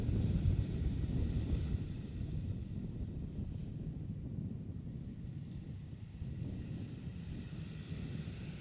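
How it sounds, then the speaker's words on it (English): Ocean waves and steady wind on a beach in Aruba, a continuous low rumbling wash that is heaviest at the start and then settles into an even roar, with no voices. "I'm just going to let you guys listen to the sound of the ocean and listen to the wind."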